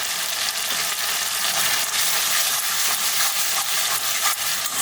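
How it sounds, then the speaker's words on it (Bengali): Spice paste of ginger, chili and nut pastes fries in a pan for a new-potato curry, a loud close sizzle with crackling and occasional stirring scrapes, no voices. "এবার এটা ভাজতে ভাজতে যখন হয়ে আসবে, মশলাটা ভাজা হয়ে গেছে"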